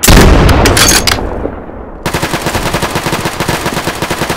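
Rapid automatic gunfire in a Roblox Squid Game match, loud bursts of shots followed after a brief lull by a steady, close rattle of repeated fire.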